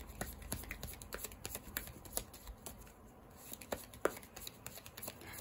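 Oracle cards shuffled by hand close up, a quick run of crisp slapping, riffling clicks with short pauses, fairly soft and with no talking.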